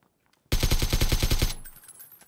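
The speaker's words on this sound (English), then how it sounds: "Using an AK silenced." Silenced AK rifle firing in the video game PUBG: a rapid automatic burst of about ten evenly spaced suppressed shots, loud and close, ending abruptly with a brief tail.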